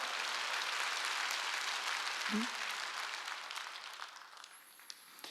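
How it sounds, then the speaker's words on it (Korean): Congregation clapping during a Wednesday worship service, a faint, continuous wash of many hands that slowly tapers off, with a brief low thump midway. "빨리 박수 치라고"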